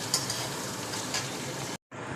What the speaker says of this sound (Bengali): সবজিগুলো এরকম ভেজে নিলাম